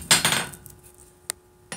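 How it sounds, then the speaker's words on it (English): Hot steel is struck with a hammer to cut off stock while a vice is being forged. A burst of clangs comes close together, then two isolated sharp metallic strikes ring out with quieter gaps between them. "And we're going to hammer on this and try to cut her off here."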